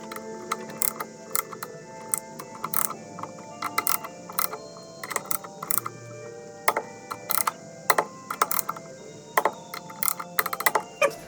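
Ratchet wrench tightening AC compressor bolts on a 1997 Jeep XJ, a steady run of close, crisp clicking bursts repeating in short groups throughout, with no voices.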